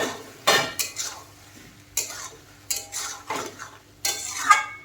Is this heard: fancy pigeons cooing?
no